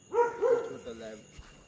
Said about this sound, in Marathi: ते कुत्रे उभे तिथे.